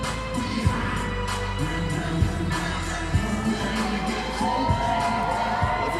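A crowd cheers and whoops at the Mr. Olympia bodybuilding finals during a posing routine, a steady roar of an arena audience with a thumping beat pulsing underneath.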